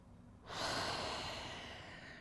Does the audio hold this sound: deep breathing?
yes